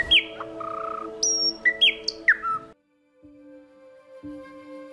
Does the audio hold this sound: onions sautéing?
no